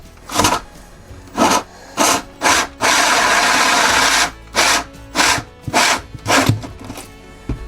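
Hole saw cutting a hole for 1.5 inch conduit through a camper wall with insulation behind it, run slowly in short bursts with one longer steady grind, close and fairly loud.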